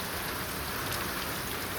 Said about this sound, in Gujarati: ખતરનાક વરસાદ પડે ઉનાળામાં યાર